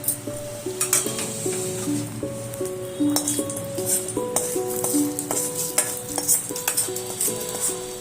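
Hot tempering with asafoetida is poured into coconut chutney, giving a soft sizzle with spoon stirring and light clinks of utensils, all under background music.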